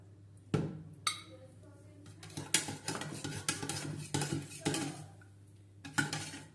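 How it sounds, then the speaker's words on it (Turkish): A utensil stirs recipe ingredients and oil in a bowl, with repeated clinks and scrapes against the sides in an uneven rhythm, close and clear, while a person talks. "Güzelce karıştıracağım bütün malzemeleri."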